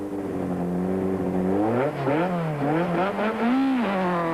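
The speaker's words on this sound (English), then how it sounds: "Sasol fires up the Sasol Ford to bring the car under starter's orders." A Ford rally car at the 1993 Sasol Rally fires its engine and revs hard, the pitch climbing and dipping in repeated surges, loud and close, with no voices.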